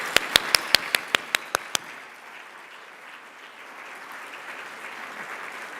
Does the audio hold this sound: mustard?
no